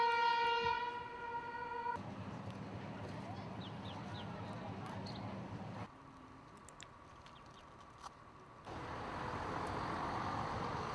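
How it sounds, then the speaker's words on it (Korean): A train pulls into Flåm, the end station of a mountain railway in Norway, with a sustained horn-like tone at the start giving way to steady rumbling carriage noise and brake or wheel squeals, ending in a broader roar. "총 2시간 50분을 달린 기차는 산 넘고 물 건너 드디어 종착역인 플롬에 도착했다."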